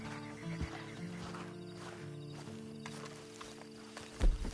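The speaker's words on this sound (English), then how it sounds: "Then you better get on this horse." A horse in a PS4 video game whinnies over faint clip-clopping hooves, with a quiet ambient background and a brief louder thump near the end.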